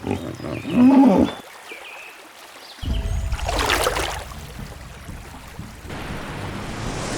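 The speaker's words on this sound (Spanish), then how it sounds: "el viejo hipopótamo lanza un rugido grave que resuena por todo el pantano" An old hippopotamus lets out a deep, rumbling roar across a swamp in Botswana, heard in low, heavy bursts with gaps between them, set against a background of open-water ambience.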